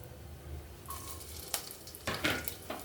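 Masala spices dropped into hot oil for Telangana-style bagara rice, faint sizzling with a few sharp bursts of crackle and hiss, fairly quiet and close.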